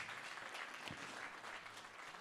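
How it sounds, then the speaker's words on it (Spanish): A church congregation at a Sunday service claps in a short, even burst of applause, faint and distant, with no talk over it. "podemos dar fuertes aplausos y bienvenido"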